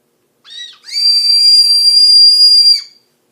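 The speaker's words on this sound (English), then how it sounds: "the last thing that I'm trying this round is the whistle candy. And I'm actually going to try to do the whistle." A grape ramune flavored whistle candy blown as a whistle: a short high toot, a brief pause, then one loud sustained shrill whistle lasting about two seconds, close up with no talking.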